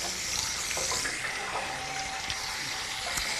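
Water runs steadily from a tap in a village water system, a continuous broadband splashing rush that stays even and fairly close throughout, with no voices.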